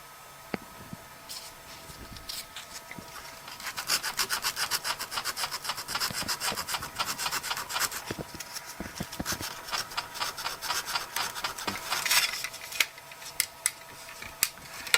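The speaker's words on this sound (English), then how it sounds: "So right now we have sanding to do." Rapid, rasping strokes of sandpaper rubbed by hand over wood, close and continuous with a steady back-and-forth rhythm; no voices.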